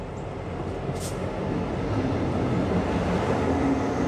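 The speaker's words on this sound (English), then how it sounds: "throttling this locomotive towards us at 20 miles an hour" A locomotive rumbles steadily nearby at about 20 miles an hour, a heavy, constant low roar that grows slightly louder as it draws closer.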